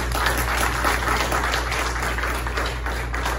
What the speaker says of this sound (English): I think you are owed a round of applause for coordinating all this stuff